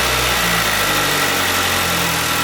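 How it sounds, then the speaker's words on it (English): A car engine runs at a steady idle right after a battery replacement, a loud, even mid-range hum with constant low rumble and no talk over it. "Last thing to do now is simply turn on the car and make sure everything works"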